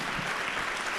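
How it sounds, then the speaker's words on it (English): An audience claps at a startup demo day, giving presenters another round; a dense, steady wash of applause fills the whole brief moment at an even level. "Come on, give them another round of applause."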